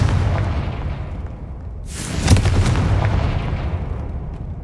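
A Confringo fire spell detonates in Hogwarts Legacy, one loud bursting boom near the middle that rolls into a rumbling tail over a low, steady game ambience.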